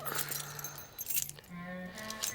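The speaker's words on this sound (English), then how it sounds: "Give me your car keys, I'll put it in the boot." Car keys jangle and clink in short bursts, close and fairly quiet, without voices.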